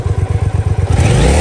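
A 2013 Triumph Speedmaster motorcycle engine thumps at a fast, even idle, then revs up with a louder rising roar, very close.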